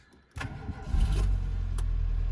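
A car engine cranks briefly and catches, firing up into a steady, loud idle after sitting unused for months; no talk over it.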